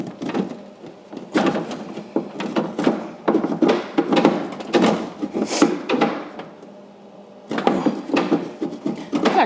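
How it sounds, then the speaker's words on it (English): Spilled chipotle is scraped off a wooden pantry shelf during cleaning, with repeated rough scraping and rubbing strokes in uneven bursts, close by, with a brief pause before a final stretch of scraping. "I might have to get something to scrape that up"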